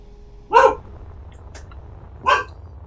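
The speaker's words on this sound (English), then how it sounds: "there's not a lot I can do about the dog barking." Two separate sharp barks from a dog indoors, spaced well apart, moderately loud against a quiet room.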